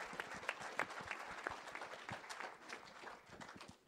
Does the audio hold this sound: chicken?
no